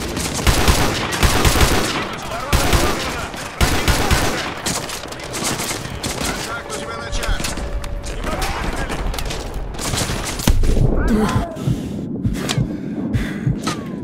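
Dense, loud gunfire from Call of Duty Modern Warfare 2 Remastered, steady machine-gun fire layered with explosive thuds and battle noise, continuous throughout with low rumbles toward the end.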